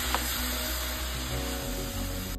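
Ingredients sautéing in a pan, a steady, close sizzling hiss that holds at an even level for a couple of seconds, with no speech over it.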